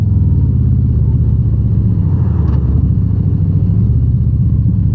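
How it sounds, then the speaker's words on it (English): Loud, continuous exhaust rumble from a 2024 Harley-Davidson Road Glide running a Screamin Eagle Pro Street tune, a deep throbbing V-twin note held steady through the whole stretch while riding, with a short rise partway through. "listen to the exhaust."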